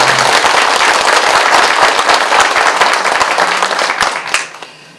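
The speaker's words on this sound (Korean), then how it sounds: "박수 부탁드립니다." Audience at a county mayoral candidate debate in Sabuk, Jeongseon, clapping for a candidate being introduced; loud dense applause that thins and fades out near the end.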